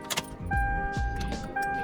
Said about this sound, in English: as soon as I turn the car on